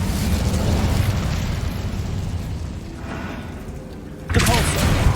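The Incendio fire spell is cast in the video game Hogwarts Legacy, a rushing roar that eases off before a sudden sharp burst erupts near the end.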